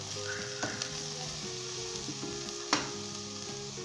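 Peas and carrots fry in a pan with a steady, close sizzle while a spatula stirs them, with a couple of soft knocks against the pan and no talking.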